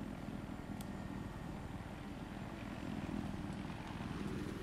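Helicopter in the video game Battlefield 4, a steady low rotor and engine drone holding at moderate level throughout with no talk over it.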